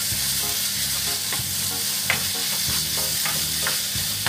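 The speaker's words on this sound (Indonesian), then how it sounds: "Kita aduk sebentar." Petai stink beans and beef skin stirred in a frying pan, a steady close sizzle with repeated scraping clicks from the utensil, no voices.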